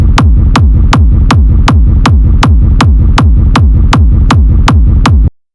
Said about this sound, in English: So let's listen to the kick we made.